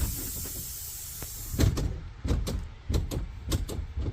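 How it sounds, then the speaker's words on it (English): School bus door opening with an air hiss, starting with a steady pneumatic hiss, then several sharp clunks and bumps of the door mechanism moving, close by. "So we'll open the door for them."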